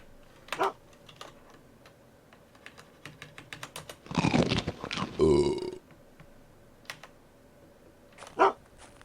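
A dog barking in the survival game Unreal World, a few sharp barks at the start and end with a burst of loud, rough growling and yelping in the middle, over scattered keyboard clicks.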